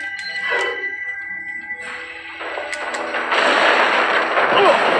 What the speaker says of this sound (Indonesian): Tembak pakai sniper.